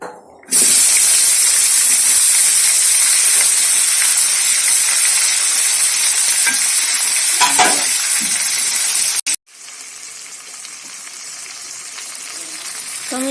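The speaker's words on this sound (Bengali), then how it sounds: "এবার এই পেঁয়াজ দিয়ে আর আলু দিয়ে একসঙ্গে আমি ভেজে নেব" Onion and potato frying together in a pan, a loud continuous sizzle with stirring scrapes, briefly cut off near the end before resuming more quietly.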